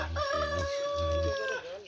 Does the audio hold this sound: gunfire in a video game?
no